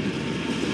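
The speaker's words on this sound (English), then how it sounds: "And here is the middle engine, which we call a DPU engine." A freight train with a middle DPU locomotive rolls past close by, with a steady, loud low rumble and rail noise throughout.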